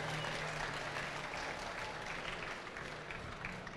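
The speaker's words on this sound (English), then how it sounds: "Give him a big round of applause." Applause from a Comic-Con audience in Scotland greeting Jean Claude Van Damme at a Q&A, a dense, steady wash of clapping heard from a distance in a large hall with a faint hum underneath.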